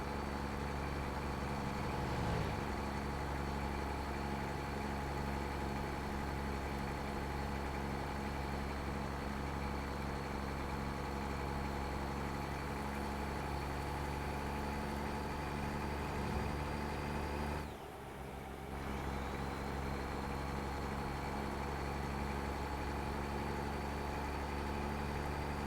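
A truck engine with a recently upgraded engine idles and runs steadily in American Truck Simulator, a continuous low drone with a constant whine, briefly dipping near the end before resuming, with no talking.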